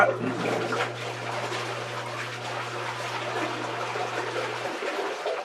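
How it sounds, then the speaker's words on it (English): Beer pours steadily into an Old Milwaukee bottle, a continuous close trickling and splashing wash with a faint steady hum beneath, lasting several seconds. "My old Milwaukee bottle is refilling right there."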